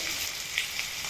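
Garlic, onion and green chili frying together in a pan over low heat, a steady close hiss of sizzling oil with a few brief brighter crackles and no talking.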